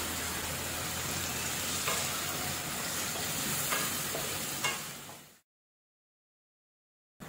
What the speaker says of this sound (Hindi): अब जो हमने हरा मसाला बनाया था वो डाल देंगे और इसको इस तेल में पका लेंगे अच्छे से